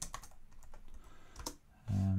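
Fingers tapping quickly on a computer keyboard while writing javadoc, a close burst of rapid key clicks that ends with a short tonal sound.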